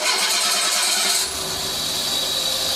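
Mercedes W203 engine revved in gear with the handbrake on, a loud, steady mechanical roar whose pitch shifts and settles partway through, heard close with no talking.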